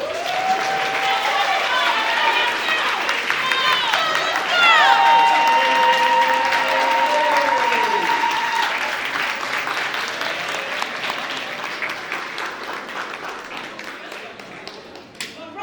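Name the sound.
clapping for Mariah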